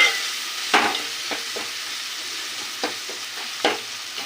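Turmeric sizzles softly in a hot pan while a spoon stirs it, scraping and clacking against the metal in a handful of sharp, irregular strokes over a quiet frying hiss.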